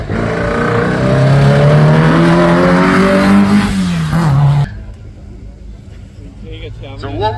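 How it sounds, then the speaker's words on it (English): A front-wheel-drive Mini racing up the Craigantlet hillclimb, its engine note climbing loudly through the revs before a sharp cut as it passes, leaving a fainter receding drone with tyre noise. "Front wheel drive Mini with loads of grip. Plenty of power."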